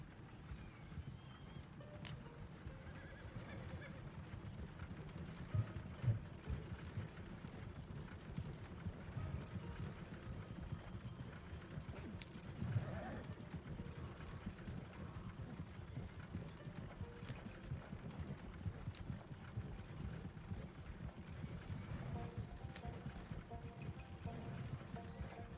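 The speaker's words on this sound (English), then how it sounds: "Longest horse ride ever." Steady galloping hoofbeats of a horse in Red Dead Redemption 2 run throughout, dense and continuous, with a horse whinnying now and then and faint mechanical clicks underneath.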